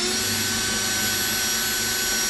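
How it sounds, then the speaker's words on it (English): Power drill boring holes into the front end of a Honda Civic EK, a steady continuous whine with broadband grinding noise, loud and close, running the whole time without pauses or talk. "what we're gonna do first is just drill some holes"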